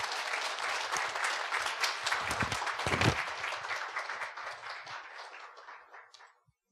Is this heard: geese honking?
no